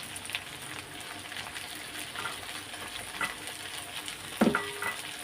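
Mutton pieces and fat frying in a pan in a home kitchen, a steady close sizzle with scattered crackles and a brief louder stir or clatter near the end.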